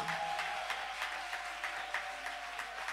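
A church congregation applauds during a French-language worship service, steady clapping filling the room at a moderate distance, with a faint sustained tone underneath and no talk over it.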